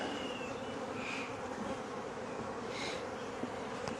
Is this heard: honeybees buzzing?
yes